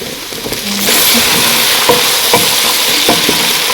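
Chopped tomatoes tipped into a pan of frying tripe (matumbo wet fry), setting off a loud, steady sizzle that swells after about a second, with intermittent scraping and clinking of a spoon stirring through the pan.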